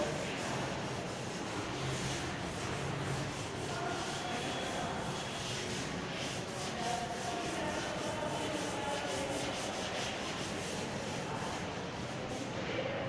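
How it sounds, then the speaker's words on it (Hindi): A written classroom board being wiped clean by hand, giving a continuous, fairly loud scraping rub in quick repeated strokes that runs unbroken for the whole stretch, with no voice over it. "ये इतना पार्ट रब कर दे रहे, सिर्फ मुझे इतने से मतलब है, तो मैं इतना पार्ट गायब कर रहा हूं।"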